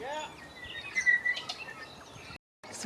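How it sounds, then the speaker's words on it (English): Birds sing near Aratiatia Rapids in New Zealand, faint chirps and short whistled notes over a soft, steady background hiss, with a brief dropout near the end. "You can hear the birds."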